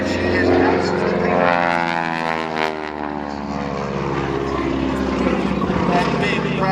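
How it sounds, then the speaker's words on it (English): A big, heavy training biplane with a large Pratt & Whitney radial engine drones loudly and steadily as it passes at an airshow, its propeller roar shifting in pitch, while an announcer talks over it. "This is a big, heavy airplane. It's a biplane, though"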